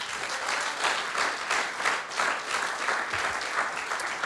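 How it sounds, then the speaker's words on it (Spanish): A church congregation applauds together for several seconds, a dense, even wash of clapping with no voice over it. "Dale un aplauso al Señor."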